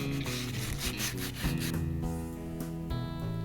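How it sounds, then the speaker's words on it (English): Old conservatory window beading is rubbed down with abrasive before painting, a close, continuous rasping scrub with rhythmic back-and-forth strokes. "give it a rub down to make sure the paint will adhere"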